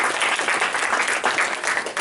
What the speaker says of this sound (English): So big round of applause for Hannah.